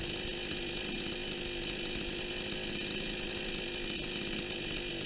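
A brand-new Huyosen Chinese chainsaw idling, its small two-stroke engine producing a steady, loud, buzzing drone close by with no pauses.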